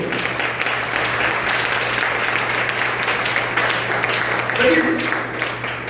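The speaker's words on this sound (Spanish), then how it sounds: "Den un buen aplauso al Rey de la Gloria." Church congregation applauding during a worship service, a sustained wash of many hands clapping with a low steady hum underneath, and voices mixed in over the clapping.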